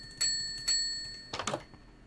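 Bell in the Minecraft video game, two quick bright metallic dings in close succession followed by a short clattering rattle, clear and isolated with no talking.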